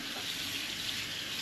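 Warm tap water runs steadily into a sink to dampen a clean tea towel, a soft continuous splashing hiss close by with no talking, in a kitchen while preparing slow-cooker milk bread.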